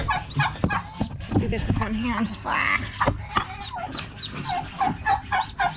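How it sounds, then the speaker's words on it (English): Small ducklings chirp in quick, high bursts close by on a ranch, mixed with clucking fowl while someone talks over them. "why do I hear chirping?"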